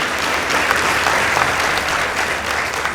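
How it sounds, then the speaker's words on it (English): A crowd at a school debate between two girls' high schools breaks into steady, sustained applause filling the room, with no talking over it. "Let's give them a round of applause."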